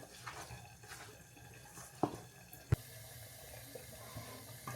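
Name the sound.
hot water poured into flour for puri dough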